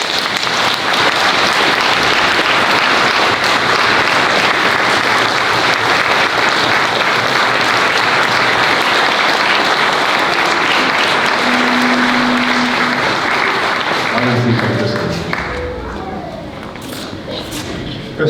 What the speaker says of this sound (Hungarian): de egy nagy tapsot kérlek.